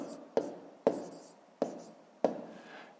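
Numbers written by hand on paper during a fifth-grade math exercise: four distinct pen taps or strokes spaced about a second apart, close and crisp, each followed by a brief scratchy trail.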